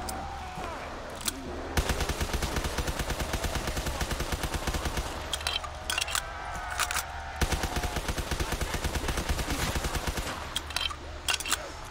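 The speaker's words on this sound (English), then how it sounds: "looks like he's shooting" Sustained rapid gunfire in the Call of Duty Zombies video game, near and loud, with rattling automatic bursts broken by short pauses.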